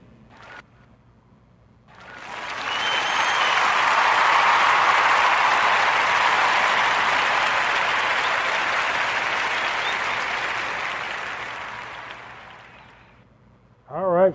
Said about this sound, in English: Round of applause for Chokes Holding LLC.